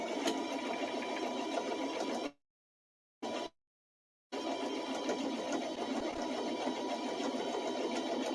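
A sewing machine stitches fabric for a pleated clutch in a fast, steady whirring run, then stops, gives one short burst of reverse stitching and resumes its continuous, close hum.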